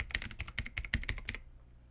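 Quick run of keystrokes on a computer keyboard in a Windows search box, about a dozen close, crisp clicks in an even rhythm that stop abruptly, leaving quiet.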